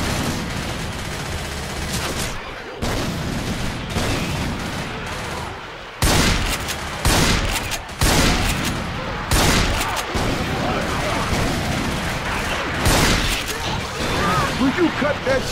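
Gunfire in the zombie shooter Left 4 Dead 2, loud bursts of rapid shots in dense volleys, cut by brief pauses, with players shouting over the shooting.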